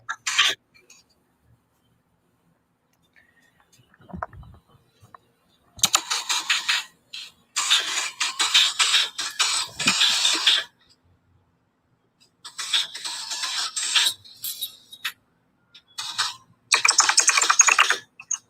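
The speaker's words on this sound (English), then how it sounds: "here comes the bashing of the fucking loudest keyboard ever" A very loud computer keyboard being hammered in rapid bursts of clattering keystrokes, close and sharp, separated by short pauses of near silence.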